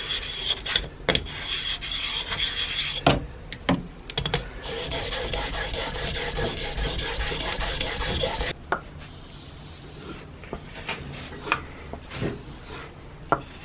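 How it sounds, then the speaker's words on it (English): A steel chisel is rubbed back and forth on a whetstone, making a close, gritty rasp in repeated strokes broken by brief taps and clicks, with a long continuous stretch of scraping in the middle. "I've gotten the chisel as sharp as I could with the sharpening stone"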